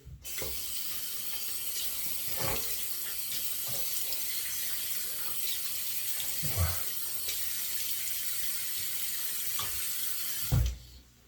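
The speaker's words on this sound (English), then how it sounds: "All right, now we can rinse off our face here." Tap water runs steadily into a sink while a shaving razor and face are rinsed, a continuous close hiss broken by a few brief splashes and knocks, with a louder splash near the end.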